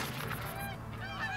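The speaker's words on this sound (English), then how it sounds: "All right, we have some geese." Canada geese honking in the Hunter: Call of the Wild video game, a run of loud, nasal honks from several birds close by, overlapping calls over a low steady hum, with no voices.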